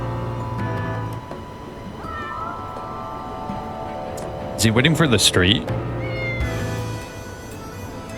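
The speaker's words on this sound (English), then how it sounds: "You hear that? Bunch of cats around here." Several cats meow in the street in the video game Lost Judgment, a cluster of loud, wavering cries rising over game ambience while someone talks.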